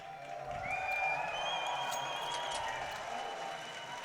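An esports arena crowd roars and cheers for Fnatic during the TSM vs. Fnatic grand final on Mirage at the PGL Championship Series Finals: a steady, dense wash of distant crowd noise with whistles riding over it.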